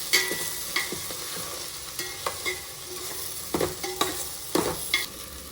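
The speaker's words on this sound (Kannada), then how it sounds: "ಇದನ್ನು ಈಗ ಮಿಕ್ಸ್ ಮಾಡ್ಕೊಳ್ಳೋಣ" Sliced okra frying in oil in a pan for South Indian sambar, stirred with a spoon: continuous close sizzle broken by irregular scraping strokes and sharp clicks against the pan.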